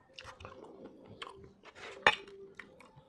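Crisp crunching bites of fried fish (bangus) during a seafood mukbang, close and fairly quiet, with several irregular chews and one sharp loud crunch near the end, no talking.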